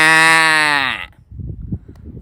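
A man imitates a cow calf's call with a single loud, drawn-out bleating cry lasting about a second, followed by quiet shuffling noises.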